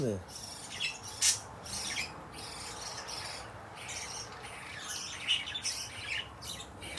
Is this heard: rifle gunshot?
no